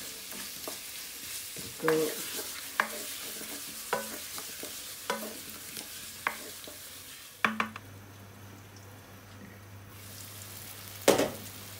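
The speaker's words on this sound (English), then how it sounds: "the potato's been cooking away" Diced potatoes cooking in a pan with masala spices for aloo gobi, with soft frying and sizzling beneath repeated stirring and scraping sounds spaced every second or so, then a steadier low hiss.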